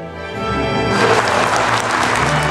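Business leaders break into applause that swells from a scattered start into a dense, steady round of clapping, heard close and without speech.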